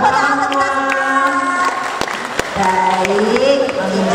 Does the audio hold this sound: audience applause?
yes